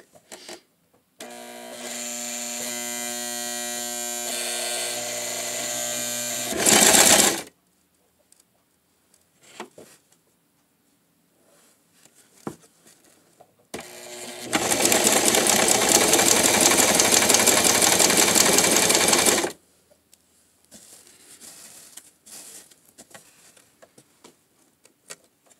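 A sewing machine stitches two very light fabrics with its tension lowered, running in two close, loud bursts of steady whirring, the first about six seconds and the second about five, separated by near silence with small handling clicks.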